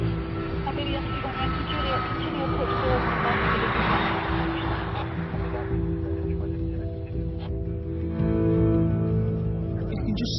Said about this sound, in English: there will be aircraft coming into land still.